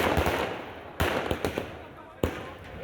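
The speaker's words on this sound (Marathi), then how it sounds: "महाविकास आघाडीच्या विजयानंतर कार्यकर्त्यांनी फटाक्यांची आतषबाजी केलेली आहे" Sharp bangs of firecrackers burst at irregular intervals during a political victory celebration in Sangli, a few loud cracks standing out over a noisy crowd and steady background din.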